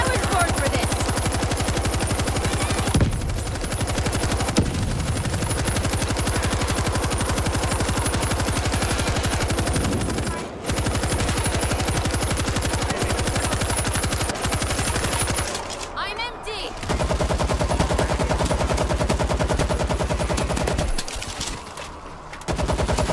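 Sustained automatic gunfire in the zombie shooter World War Z, set in Marseille, a loud, nearly continuous rapid rattle of machine guns holding on for long stretches with only brief pauses, while a player talks over it.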